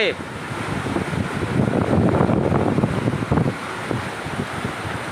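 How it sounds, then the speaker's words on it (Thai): A rescue boat pushes through fast-flowing floodwater in Hat Yai, Thailand, making a steady, close rushing roar with wind buffeting the microphone and voices faint underneath. "ทีมเรือกำลังลุย น้ำเข้าไป"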